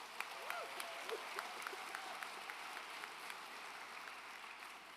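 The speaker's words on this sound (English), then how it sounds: "Round of applause." Applause from a large crowd at a class of 2024 high school graduation ceremony, a steady wash of clapping heard from a distance with faint voices and cheers scattered through it.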